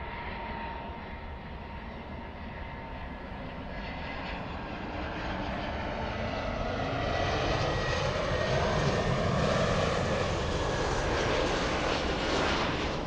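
A Delta airliner on final approach gives a steady, rising engine roar that swells gradually as it draws nearer and grows louder, with no talk over it.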